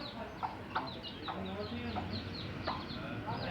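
Sultan, Brahma and Ispenç chickens cluck repeatedly nearby, short overlapping calls over a steady low background murmur.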